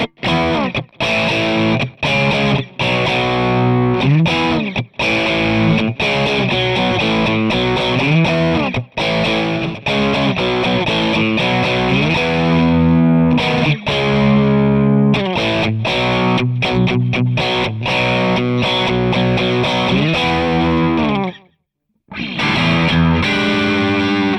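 Heavily distorted Fender Stratocaster through a Marshall Plexi Kemper profile plays a busy, continuous run of riffs and chords, cutting out briefly near the end before resuming.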